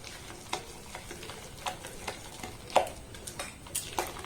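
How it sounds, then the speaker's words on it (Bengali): Milk is stirred into mango cake batter in a bowl. Soft swishing is punctuated by light, irregular taps and clicks of the utensil against the bowl, close up and without talk. "এটাকে আর একবার খুব সুন্দর করে নাড়াচাড়া করে আমি মিক্স করে নেব"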